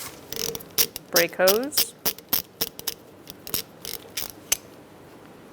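A ratchet with a 12 mm socket clicks in quick, uneven bursts up close as it loosens the brake hose on a 2010-2013 Kia Soul rear brake caliper, while someone talks briefly.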